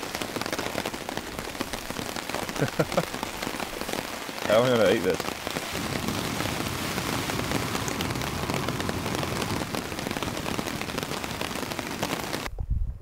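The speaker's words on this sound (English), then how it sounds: "The storm's come back." Heavy rain from a storm drums steadily on a tent close by for the whole stretch, with a brief voice speaking partway through.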